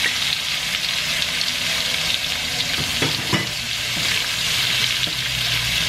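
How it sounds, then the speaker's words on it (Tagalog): Ginger and garlic sizzle steadily in hot oil in a frying pan for corn soup, with a few stirring scrapes and clinks over the constant close crackle. "ay uunahin ko ng paglapag sa kawali ang luya"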